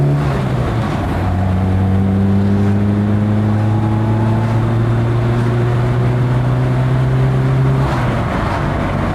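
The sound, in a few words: Lada Riva Estate VAZ 2104 engine accelerating on road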